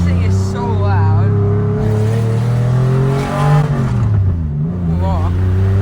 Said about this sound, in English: Whoa, this thing is so loud.